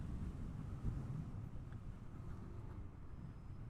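Steady low rumbling wind buffeting a full-face motorcycle helmet microphone, constant and loud throughout with no voice.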